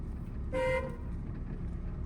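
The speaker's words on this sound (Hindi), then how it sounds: "हॉर्न," A single short car horn toot cuts through steady low traffic rumble, fairly faint and a little distant.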